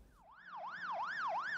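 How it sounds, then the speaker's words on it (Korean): A police siren wails in a street near a hotel after a shooting in Indiana. Its tone sweeps up and down in a steady, repeating cycle, clear and moderately distant, with no voices. "거리에 사이렌이 울려 퍼지고 호텔 주변엔 경찰들이 몰려 있습니다"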